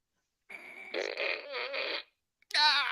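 Farting puppet on a wrestling podcast: a drawn-out, buzzing, sputtering fart noise in several pulses, followed by a short second blast after a pause, loud and close.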